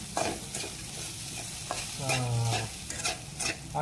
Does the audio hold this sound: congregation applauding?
no